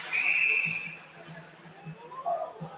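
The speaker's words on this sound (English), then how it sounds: "And we have another whistle." At an ice hockey game, a referee's whistle sounds once, short and shrill, over faint arena noise, with a second fainter whistle-like tone near the end.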